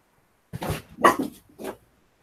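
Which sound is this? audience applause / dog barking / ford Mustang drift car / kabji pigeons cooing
dog barking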